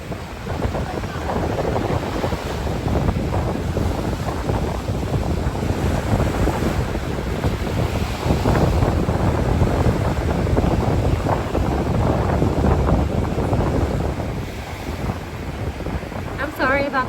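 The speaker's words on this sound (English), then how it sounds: "I'm sorry about the wind, you guys. It's just part of being at the beach." Strong, cold wind at Myrtle Beach roars across the microphone continuously, with crashing waves and surf blended underneath, loud and close throughout, and a voice is briefly audible.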